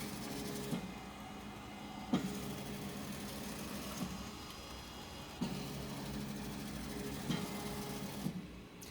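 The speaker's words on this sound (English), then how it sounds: "I'm just going to go ahead and do a trace to enter the design into the machine" An embroidery machine tracing the outline of a digitized chick and bunny photo design: a steady mechanical whir and hum with faint rhythmic clunks every few seconds as the hoop moves, close and continuous.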